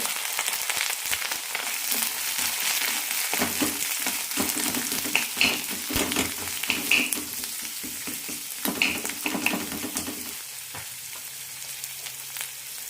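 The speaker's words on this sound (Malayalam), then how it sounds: "ഒരു ടീസ്പൂൺ എണ്ണ ഒഴിച്ചിട്ടുണ്ട് ഇതിലേക്ക് സവാള ഇടാം കൂടെ തന്നെ കറിവേപ്പില ഇട്ടിട്ടുണ്ട്" Onion and curry leaves frying in a teaspoon of oil, a close, loud crackling sizzle with stirring scrapes and spattering pops that eases off near the end, with no talk.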